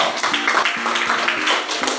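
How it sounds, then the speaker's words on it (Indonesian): Children applaud in a classroom, a quick run of light, irregular hand claps and taps, close and moderately loud, for about two seconds. "Tepuk tangan untuk Gersio"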